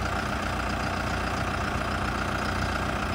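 A New Holland tractor engine idles steadily, a loud, continuous low diesel rumble with an even mechanical throb throughout, no voices over it.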